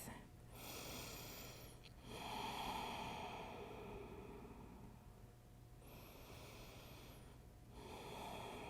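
Slow, deep breaths during a yoga pose, two long soft inhale-exhale cycles with airy hiss, quiet and close, no talking.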